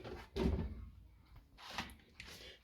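Whirlpool washing machine door being opened, a heavy thunk followed by a few lighter clunks and latch sounds, close and fairly loud, with no talking.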